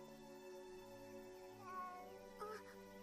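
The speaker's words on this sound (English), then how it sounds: "That cat. That blooming cat." An anime cat gives a couple of faint meows over soft, sustained background music, with no one talking.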